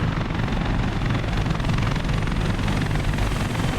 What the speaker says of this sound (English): This helicopter's flying over.